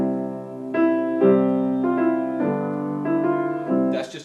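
A piano plays the hymn Just As I Am in plain block triads, a series of sustained chords struck one after another at a slow, even pace, close and clear with no talk over it.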